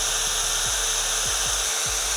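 A Skil drill set to its lowest speed drives a Milwaukee impact wire stripper on 10 gauge wire, giving a steady, close whirring hum that holds through the whole stretch without talk.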